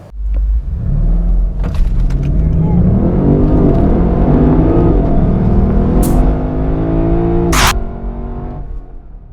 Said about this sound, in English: let's do a little 0 to 100 comparison